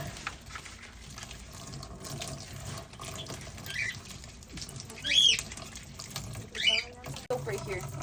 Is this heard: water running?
yes